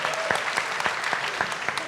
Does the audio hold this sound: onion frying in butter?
no